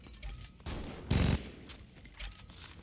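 Gunfire in the Saints Row 2 video game: a brief, loud burst of rapid shots near the middle, with softer game sounds before and after.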